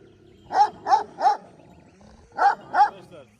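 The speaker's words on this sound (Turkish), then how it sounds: "Köpeklerimi de beğenmene çok sevindim." Large Kangal dogs bark in a yard, three deep loud barks in quick succession, a pause, then two more, close and clear.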